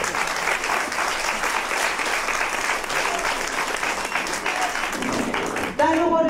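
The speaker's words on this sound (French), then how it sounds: "je vous demanderai d'applaudir Christine Maioli" An audience at a seniors' care home show applauds an actress who plays the nurse. The clapping is loud and continuous for several seconds, then breaks off as a voice starts speaking.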